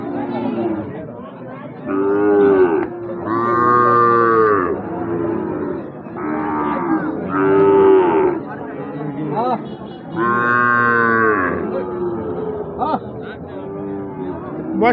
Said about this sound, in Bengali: আমার উপযোগী সাইওয়াল ষাঁড় বাছুর